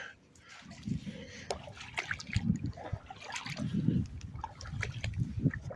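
Wading into cold river water from a submerged islet, with irregular splashes and sloshing close by at moderate level, a voice talking intermittently over the water sounds.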